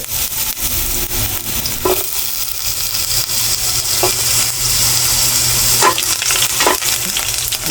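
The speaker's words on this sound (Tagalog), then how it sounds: "Talsik yung mantika." Ginger frying in hot oil for a mussel dish, a loud dense crackling sizzle with spattering pops and occasional utensil knocks, close up and continuous throughout, no talking.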